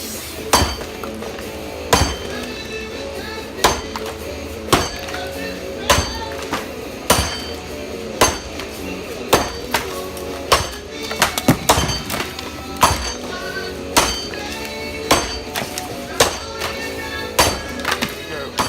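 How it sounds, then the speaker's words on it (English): Axe blows chopping into hardwood, sharp close impacts striking about once a second in a steady rhythm over a faint background hum. "The main goal is to stay behind the axe and get my arms extended. That's extremely important when you're cutting hardwood."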